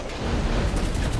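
A WZ-120C tank cannon fires at point-blank range in the video game MWT Tank Battles, giving one loud, deep, booming blast with a rumbling tail and no talking.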